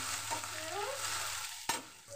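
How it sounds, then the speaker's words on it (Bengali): Crushed garlic, green chili and spices frying in a pan, a steady soft sizzle with a stirring scrape near the end, close and alone, with no talk. "দিয়ে এখন এটাকে আগে ভালোভাবে আমি ভেজে নেব কিছুক্ষণ।"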